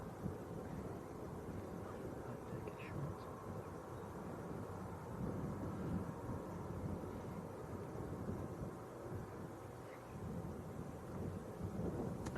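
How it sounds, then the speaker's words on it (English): Aer Lingus ATR turboprop taxiing at Leeds Bradford Airport, a steady broad low rumble of engine and wind noise, moderately distant and continuous, with no voices. "Got one of the ATRs coming out as well, Aer Lingus ATR."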